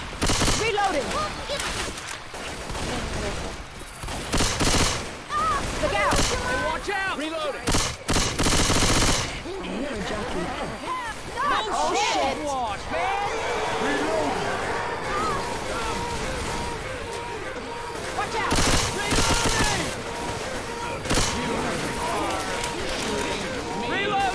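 Video game gunfire, likely a zombie-horde shooter, pops in rapid bursts and fusillades amid chaotic game noise, while players talk and shout over the shooting.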